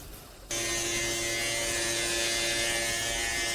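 A battery pressure sprayer's pump starts abruptly with a steady mechanical whir and high-pitched hiss, running on evenly at close range.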